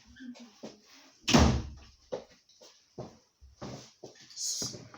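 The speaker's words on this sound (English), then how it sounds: "I'll close this door." An indoor door pushed shut with one solid, fairly loud thud, followed by quieter knocks and handling noises nearby. No one speaks.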